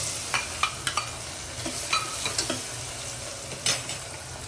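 Mustard seeds, whole cumin, asafoetida, curry leaves and onion frying in hot oil for a potato shak, giving a steady close sizzle with scattered crackles and spoon-stirring scrapes throughout.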